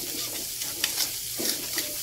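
Ground spice paste sautés in oil in a pan, giving a close, continuous sizzling hiss with a few soft stirring scrapes over about two seconds.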